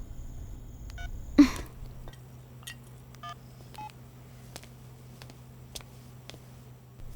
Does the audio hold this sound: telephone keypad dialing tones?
yes